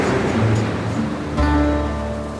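Atlantic Ocean waves around Bishop Rock, a soft continuous wash of surf with one fuller surge partway through, heard at a moderate distance.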